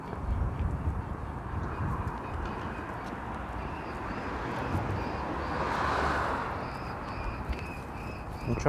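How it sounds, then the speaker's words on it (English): Birds call from a Queens–Brooklyn street in New York City, with scattered chirps and caws over a steady urban traffic hum, fairly faint and mixed into the city noise. "I'm hearing a lot of birds."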